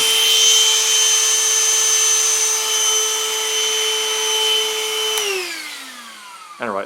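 A Black + Decker Dustbuster Pivot hand vacuum runs with a loud, steady motor whine for about five seconds. It then switches off and the pitch glides down as it spins to a stop, followed by a brief clatter.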